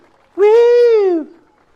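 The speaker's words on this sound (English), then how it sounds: "Insert stupid bird noise here." A single drawn-out, owl-like hoot rises out of quiet, holds steady for just under a second, then fades. It sounds close and clear, with no talk over it, during a garage golf simulator session.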